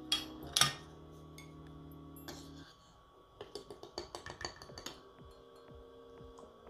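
Tapioca starch scooped and measured with a metal tablespoon, quiet clinks and scrapes of spoon against container in a short cluster, faint and close in a still kitchen.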